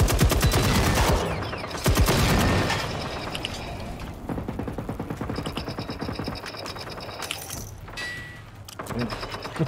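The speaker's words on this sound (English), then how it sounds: "He's launching rockets" A robot launching rockets in the Generation Zero video game: rapid rattling salvos and mechanical clatter in several loud bursts, fading and returning over about ten seconds.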